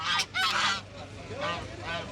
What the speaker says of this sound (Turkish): Çok da Kazlar gelmiş.